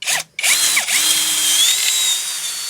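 A power drill with a newly bought bit bores out flywheel bolts on a K9K engine, sounding as a loud, close whining spin-up after a short start, then steady grinding under load.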